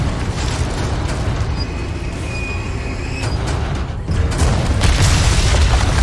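Cannon shots in the castle of the Resident Evil 4 remake: deep, heavy booms with rumbling low end, loud and close, growing heavier toward the end amid mechanical clatter.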